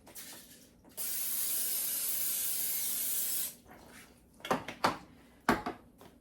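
Cooking spray hisses steadily into an 8x8 baking dish for about two and a half seconds, followed by a few short clinks and knocks of the dish being handled.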